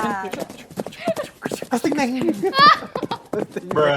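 Horse hooves clip-clopping as a sound effect, rhythmic knocks mixed in among people talking over them.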